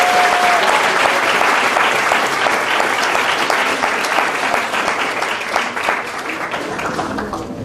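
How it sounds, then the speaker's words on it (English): A crowd at a university speaking competition gives a loud, sustained round of applause for a third-place finisher. The dense clapping runs steadily throughout and eases slightly near the end. "can you please give a round of applause for Derek Barcelo."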